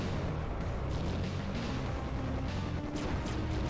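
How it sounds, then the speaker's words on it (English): A plasma cannon fires in a 1997 PlayStation video game, producing a continuous loud, roaring barrage of blasts and rumbling impacts that fills the whole stretch with no pauses and no voices over it. "Ooh, plasma cannon."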